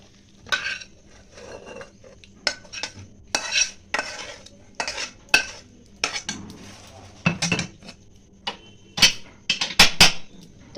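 Mixed vegetable curry (panchmishali chorchori) served into a bowl with metal utensils: a run of sharp scrapes and clinks, close and moderately loud, coming in irregular bursts against a faint background, with no talking.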